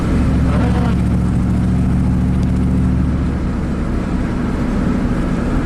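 A Chevy dump truck's Vortec V8 idles with a misfire and an exhaust leak, running as a steady low, rough rumble close by for the whole stretch, with no talking over it.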